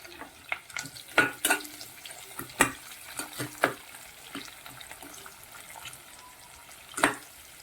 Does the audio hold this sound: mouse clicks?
no